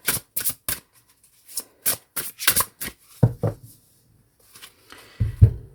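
A very large Les Clés du Destin oracle card deck is shuffled slowly by hand, producing a series of crisp riffling bursts with pauses between them and a few heavier taps near the end, close and clear.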